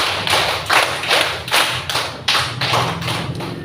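Children in a classroom clapping game clap together on command, a steady run of about nine loud, evenly spaced group claps in an echoing room.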